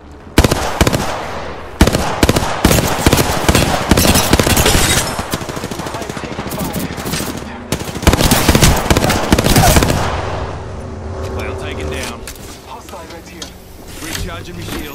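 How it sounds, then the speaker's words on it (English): Gunfire in the third-person shooter Fuse: loud, rapid automatic bursts and single shots arrive in rhythmic volleys, with brief pauses, then fade to scattered shots near the end; a voice talks over the shooting. "He's shooting at me."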